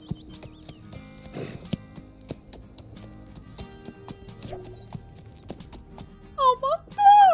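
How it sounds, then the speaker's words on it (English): A horse ridden in The Sims 4 gives off soft, irregular clopping hoofbeats among other faint game sounds, and a voice exclaims loudly at the end. "We're riding a horse!"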